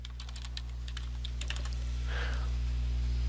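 Keys clatter on a computer keyboard in quick, light, irregular taps, close by, over a steady low electrical hum.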